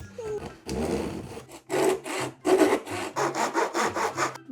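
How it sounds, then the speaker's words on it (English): Handsaw cutting through the wooden trunk of a plant, with a stretch of rough rasping at first, then a run of steady back-and-forth strokes that grow quicker toward the end, loud and close. "Let's start sawing."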